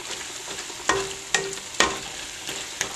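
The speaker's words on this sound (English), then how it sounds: "my eggs are not cooking as fast as I thought they would" Eggs in a vegetable scramble cooking over low heat in a pan on a camp stove: a soft, steady sizzle with several sharp clicks and scrapes of a utensil against the pan at irregular intervals.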